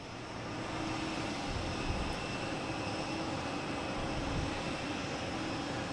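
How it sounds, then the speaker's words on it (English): A British Airways Airbus A380-800 arriving at Boston Logan from London Heathrow makes a steady, distant broadband jet roar that holds at an even level throughout, with no voices. "Got British Airways A380-800 coming in from London Heathrow"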